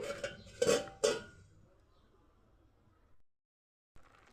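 A metal lid clatters onto a cooking pot in a kitchen, with a few close bright clinks in quick succession followed by quiet, during jackfruit chilli preparation.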